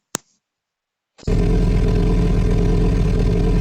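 Car engine in the driving game DriveX: a brief click, a second of silence, then the engine cuts in abruptly as a loud, steady, close roar that holds to the end.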